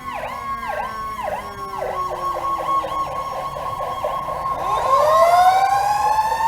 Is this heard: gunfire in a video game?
no